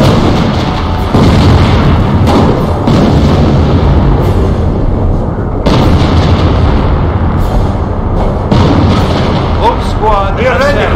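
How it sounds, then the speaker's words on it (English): Artillery barrage in Company of Heroes, a loud continuous wall of booming explosions and gunfire with overlapping blasts throughout and brief pauses between salvos. "Barrage on target."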